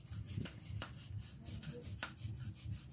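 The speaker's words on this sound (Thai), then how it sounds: "ลอกเปลือกแล้วก็คัดกระดาษทรายคัดเบอร์ใหญ่ๆเนี่ยคัด" Coarse sandpaper rubs back and forth over a peeled length of mature bamboo for a sofa frame, giving repeated scratchy strokes at a steady rhythm, fairly quiet and close, with no talk.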